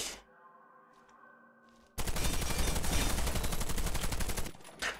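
Gunfire from a weapon on the shooting range in the video game Warface: a quiet, tonal lull, then a loud sustained string of rapid automatic shots lasting about two and a half seconds, which then stops abruptly.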